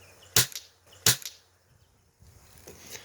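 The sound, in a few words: Red Rider BB gun firing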